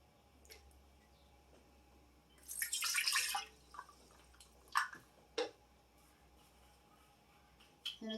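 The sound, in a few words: water being poured into a measuring cup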